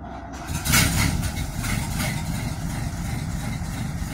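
A Packard car engine running right after a cold start with the choke partly out, a close, steady low idle rumble that swells briefly near the start and then holds even.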